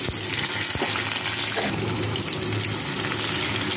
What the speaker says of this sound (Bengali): রসুনটা হালকা লাল হওয়া পর্যন্ত আমি ভাজব।